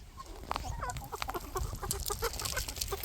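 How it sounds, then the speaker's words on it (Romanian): Hens and roosters clucking together in a garden run, a busy overlapping chorus of short clucks and calls, fairly close and continuous. "Iar acum, la plimbare cu găinile, cocoșii și rățuștele"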